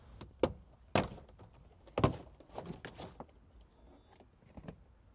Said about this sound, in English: And now I'll pry this out.